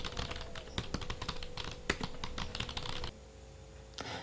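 Typing on an HP 350 wireless keyboard, a steady patter of close keystrokes for about three seconds, then a short pause before a few more clicks.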